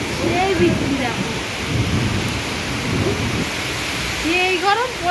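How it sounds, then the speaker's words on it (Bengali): A heavy downpour hisses and roars without pause as deep thunder rolls underneath, while a voice briefly breaks through the storm noise near the start and again toward the end. "বিশাল বৃষ্টি হচ্ছে, যেরকম বৃষ্টি সেরকম মেঘ যাচ্ছে"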